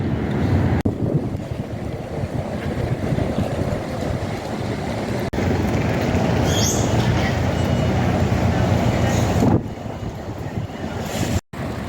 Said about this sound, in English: So this is the train station